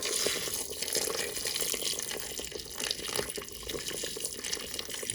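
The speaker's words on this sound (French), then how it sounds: "on ajoute cette fois-ci 900 ml d'eau" Water pouring steadily into a Cookeo multicooker pot, a continuous close splashing trickle without pauses or talk.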